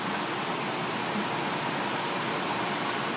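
Rainwater rushes during a storm with a tornado warning, a dense, even hiss of flowing water that stays loud and constant throughout, with no voices.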